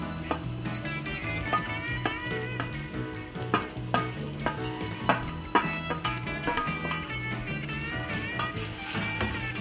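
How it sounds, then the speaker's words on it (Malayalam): Drumstick pulp and grated coconut fry in a pan with a steady sizzle and occasional stirring clinks, set under continuous background music. "ഈ സമയത്ത് നമുക്ക് എടുത്തു വെച്ചിരിക്കുന്ന മുരിങ്ങയ്ക്കയുടെ കാമ്പ് ഇട്ട് കൊടുക്കാം"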